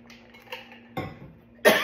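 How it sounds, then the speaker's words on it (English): A woman doing a tarot reading coughs indoors, two close, sharp bursts a little over half a second apart, the second louder, in an otherwise quiet room. "now I'm starting to cough"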